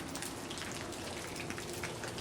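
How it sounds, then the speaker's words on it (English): Heavy rain pours through a Vermont woodland in January while wind blows through the trees, forming a dense, steady hiss with no breaks and no voices. "Raining like crazy. The wind's blowing."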